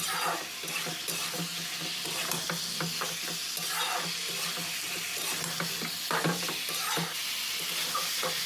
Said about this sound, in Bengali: এইভাবে অনবরত আপনারা নাড়াচাড়া করে সবজিটাকে কষতে থাকবেন